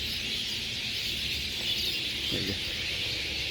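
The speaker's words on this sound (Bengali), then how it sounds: "চারিদিকে শুধু পাখির কিচির মিছে আপনারা অবশ্যই শুনতে পারতেছেন" Many birds chirp across a field beside an orchard in Bangladesh where they roost, a continuous blended chorus of high twittering at moderate distance, with a few closer calls rising briefly.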